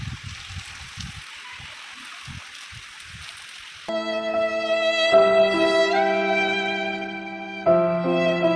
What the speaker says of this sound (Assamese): ইমান বেছি বৰষুণ দিছে।